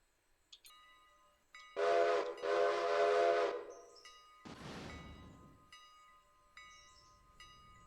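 A steam locomotive in the Railroader video game blows two loud whistle blasts, then a burst of steam hiss as it sets off, with quieter mechanical tones around it.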